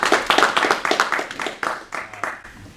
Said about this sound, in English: A little round of applause for Brown